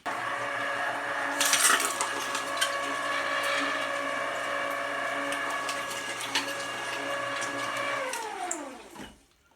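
An electric meat grinder works through well-chilled bacon for bacon cheddar bratwurst, a steady mechanical whine with clunking gear rattle that runs loud and then winds down to a stop at the end.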